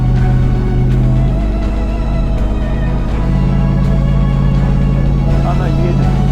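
The 600 hp Bentley Ultratank churns through sand with a steady, loud engine drone and a grinding roar, while people talk over it.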